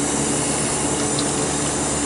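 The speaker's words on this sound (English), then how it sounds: "Just watering, putting some water on them, getting them nice and moist." Water pours and sprays steadily onto rooted plant cuttings, a dense, unbroken hiss at close range with no voices.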